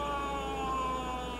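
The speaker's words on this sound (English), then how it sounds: "An ambulance." An ambulance siren sounds at a ballfield at night, a sustained wailing tone held briefly and fairly loud over a low rumble.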